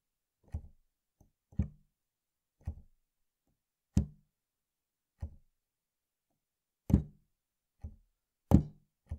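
Keys on a Studiologic Numa X Piano 73 digital stage piano tapping with hammer action, about ten soft, dull knocks spaced unevenly in an otherwise quiet room, close and alone.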